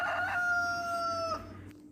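A rooster crows once, a loud, drawn-out tonal cock-a-doodle-doo lasting just over a second, followed by a faint trailing cluck. The call stands alone against a quiet background hum.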